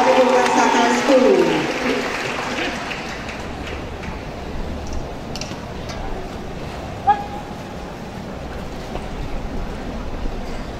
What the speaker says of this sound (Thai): ขอเสียงปรบมือให้กับองค์โยธวาทิศโรงเรียนพิบูลมังสาหารครับ